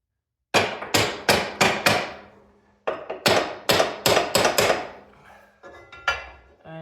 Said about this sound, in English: So I'm just gonna hammer them a little bit.